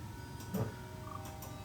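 Faint, sparse percussion from a Japanese instrument that mimics crickets, played on a keyboard: a few soft ticks and clicks with a small chirp-like tone, quiet and scattered over a low background hiss.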